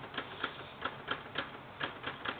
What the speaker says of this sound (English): you've got a typewriter and you're trying to just exercise it after a bunch of years